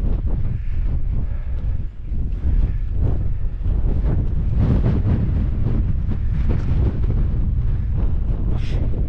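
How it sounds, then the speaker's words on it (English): Strong wind on a night in the Lake District buffets the microphone in a steady, loud low roar with gusty surges throughout; no voices. "How windy it is."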